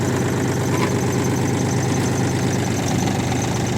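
Iseki TU-240 mini tractor engine idling steadily, a close, loud, even diesel-like chugging with a constant rhythmic throb and no speech.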